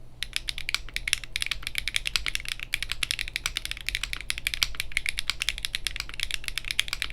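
Rapid, steady clacky keystrokes on a mechanical keyboard, crisp and close, continuing without pause and with no voices.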